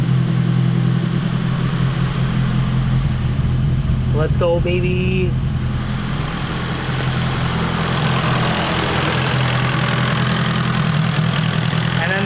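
A Nissan S-chassis car with a newly fitted Spal electric fan setup idles steadily and loudly throughout, its low engine drone continuous, while people talk over it.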